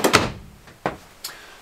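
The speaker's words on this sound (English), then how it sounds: "All ball bearing drawer guides." Kitchen drawer on ball bearing guides in a 2020 Jayco Jayflight 28BHS travel trailer, sliding and closing with a few short, close clunks and thuds.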